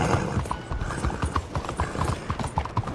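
A horse gallops in Red Dead Redemption 2, close rhythmic hoofbeats thudding in a quick, regular clip-clop across the whole moment with light tack jingle.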